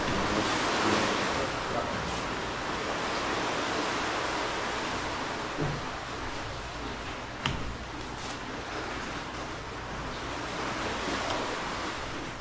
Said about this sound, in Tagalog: Tahimik ang dagat.